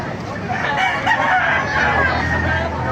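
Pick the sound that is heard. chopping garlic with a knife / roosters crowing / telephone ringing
roosters crowing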